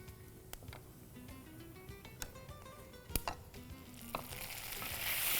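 Curry leaves hit hot oil in a pan and fry with a steady crackling sizzle, a few sharper pops standing out, the frying growing louder and brighter toward the end.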